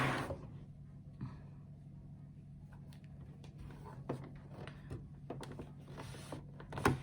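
A sewing machine stitching through thick fur fabric, with a low mechanical hum and irregular clicks and thumps of the mechanism, quiet and close.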